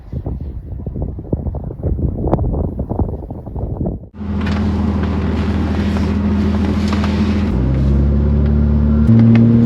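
An Aston Martin DB7's engine starts up and pulls away, a loud steady rumble with rising revs and wind noise after a quieter stretch of ambient sound.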